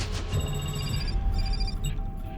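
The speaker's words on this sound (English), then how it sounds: "Dr. Graham, your phone's ringing." A telephone rings in a film scene, its faint, repeated electronic trill buried under a dense, loud background wash.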